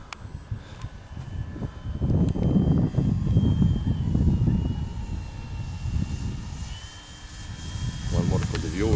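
Avios Grand Tundra 1700mm RC airplane on a 6S battery flying overhead, its electric motor whining and rising and falling in loudness as it passes, with people talking nearby.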